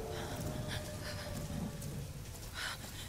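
Rain pouring during a thunderstorm in the video game Tomb Raider (2013), a dense steady hiss of falling water with low rumbling swells and scattered brighter splashes, faint overall and without voices.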